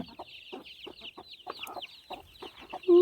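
Hens cluck in short, irregular bursts close by, with a steady high chirping of newly hatched chicks running underneath.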